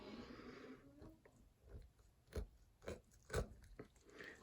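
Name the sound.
scalpel cutting through pig heart tissue, crunchy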